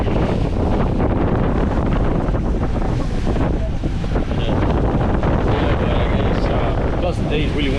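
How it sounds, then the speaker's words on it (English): Strong wind buffets the microphone on a boat at sea, a loud continuous roar with churning water and hull noise underneath, steady throughout with no break. "Plus the day is really windy"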